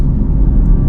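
Porsche Taycan Turbo GT electric car accelerating hard in a wet tunnel, a loud, steady low rumble with road and tire noise filling the space throughout.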